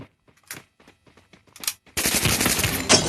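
Gunfire in the Free Fire mobile game: after a few faint isolated pops, a loud, rapid burst of automatic fire erupts and continues in a dense rattling stream, close and alone without talk.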